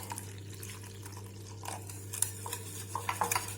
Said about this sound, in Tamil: எல்லாம் சேர்த்து இந்த மாதிரி நல்லா பீட் பண்ணி எடுத்துக்கோங்க